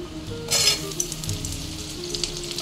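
Bitter gourd frying in a pan for a Bengali shukto with tangra fish, producing a loud, steady sizzle with a low hum underneath and a few brighter spitting bursts.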